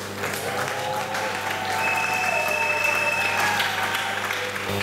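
Congregation applauding in a church during a sermon, steady dense clapping throughout at even loudness, with a sustained tone and faint voices mixed in.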